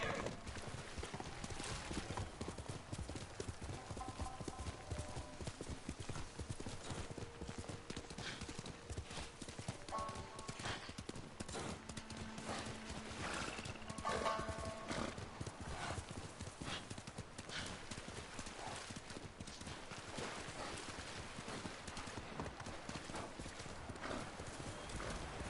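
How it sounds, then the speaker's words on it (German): Constant clip-clop of horse hooves over a busy soundscape in the video game Ghost of Tsushima, with a horse neighing and whinnying now and then; dense, continuous and moderately loud. "Pferd."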